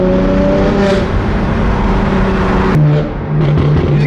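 A BMW M3 CS with a loud exhaust revs close by with a steady, droning engine note, then the pitch drops and settles into a lower rumble near the end.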